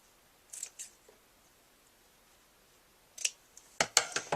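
Scissors trimming ribbon for a handmade card, a couple of quiet snips followed by a quicker run of sharp close cuts, crisp and isolated in a quiet room.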